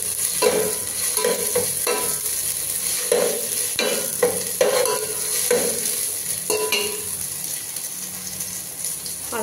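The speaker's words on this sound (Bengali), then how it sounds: "রসুন বাটা দেওয়ার পর মানে একটু ভাজতে হবে" Ginger-garlic paste frying with onions in a pan, a continuous sizzle broken by repeated scraping strokes of a spoon stirring the mixture, close and fairly loud.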